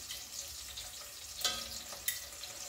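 Garlic paste mixed and frying in a pan: a steady, bright sizzle with two sharp scrapes of the spoon against the pan, close and alone.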